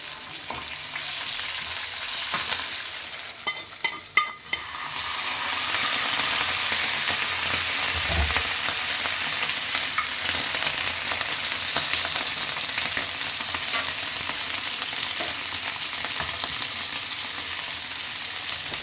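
Curry leaves frying in a pan make a steady, close sizzle that crackles briefly at first, then hisses on evenly for the rest of the stretch with no voices.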